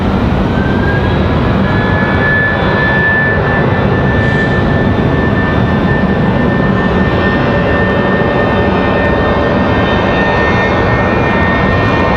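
A United Airbus A319 jet roars through its takeoff roll at Raleigh-Durham, a loud continuous engine rumble with a rising turbine whine holding steady across the whole stretch, no voices.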